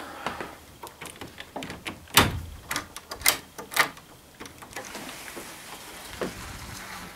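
A guest room's door being unlatched and opened, with a handful of sharp knocks and clunks in irregular succession, then a soft rushing outdoor ambience as it swings open.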